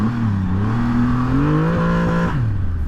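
A Triumph Rocket 3 motorcycle engine, 160 foot-pounds of torque, revving hard on a road with sand spilled across it, a loud close rising drone that climbs steadily before dropping sharply near the end.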